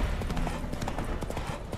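Horse hooves trotting along a path in The Witcher 3, a steady clip-clop rhythm close and loud with ambient game sound under it, and someone talking over it.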